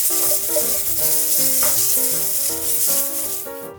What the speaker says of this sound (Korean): 팬을 다시 강불에 올려 식용유를 넣고 당근을 볶아주세요.